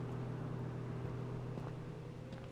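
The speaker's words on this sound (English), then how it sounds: "I hear a car. You guys hear that? There's a car outside." A car drives outside in the survival video game H1Z1, a steady low engine drone with faint tonal hum, continuous and moderately quiet throughout, with no talking.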